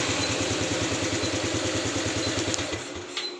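A Honda Supra X 125 motorcycle idles close by with a steady rapid putter, then the engine cuts out near the end as a remote alarm shuts it off, leaving a brief clatter and quiet.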